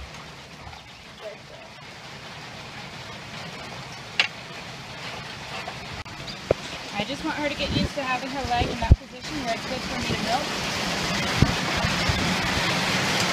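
Heavy rain pours down at a farm while a dairy heifer is being trained for milking, a broad hiss that builds steadily louder under a person talking, with a few sharp knocks along the way.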